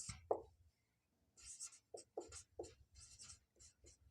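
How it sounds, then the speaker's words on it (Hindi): Pen writing on paper during a Class 8 maths lesson, heard as a series of short scratchy strokes with brief pauses between them, close and fairly quiet, with no talking. "दूसरा नंबर हम यहाँ पे लिखते हैं"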